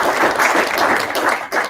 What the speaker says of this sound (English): let's see a round of applause for Jack.